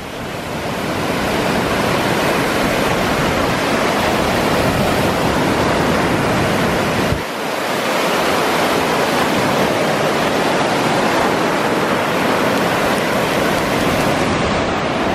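Ocean waves crash and surf rushes nearby, a loud, continuous roar of broad white noise with a brief dip midway before the heavy wash resumes.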